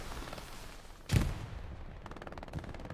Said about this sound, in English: First grenades falling down.